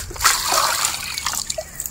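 Raw chicken being rinsed under water for a village-style barbecue chicken, with irregular trickling, dripping and splashing close by, no voices.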